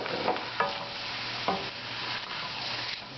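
Diced tomatoes being stirred into cooked meat in a pan, a constant sizzle with a couple of distinct scraping strokes, close and even.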